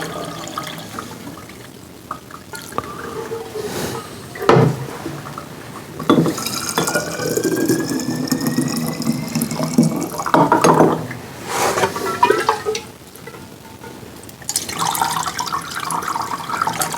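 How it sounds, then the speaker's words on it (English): Homemade cranberry orange holiday moonshine is poured into a container, a loud close liquid gurgle and splash in bursts with short pauses between pours. "I think I'll just pour this now."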